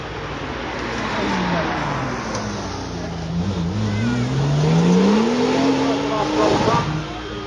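A Porsche engine accelerates along a straight track at a supercar event, its pitch sweeping steadily upward as it nears, loud over crowd noise and voices talking in the background.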